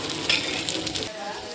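Bangda mackerel frying in a pan, a soft continuous sizzle with faint utensil clinks, close and moderately quiet, easing off toward the end with no talking.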